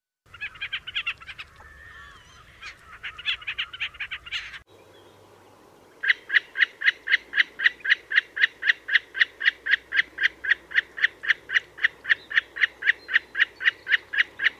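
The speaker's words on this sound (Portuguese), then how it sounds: "A narceja comum." A common snipe in wetland gives a long run of evenly spaced, sharp repeated chipping calls, loud and close, preceded by a few seconds of scratchier chattering bursts, with no voices.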